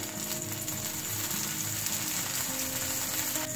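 A tomato and onion dosa sizzles in oil on a hot griddle, a continuous close, bright hiss with faint crackle and a scraping, ratchet-like texture underneath, steady throughout with no talking.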